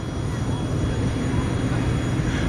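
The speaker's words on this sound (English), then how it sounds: "Well, that airplane was pretty sweet." Airplane flying at an air show, a loud, continuous engine roar that holds steady throughout with a faint high whine above it.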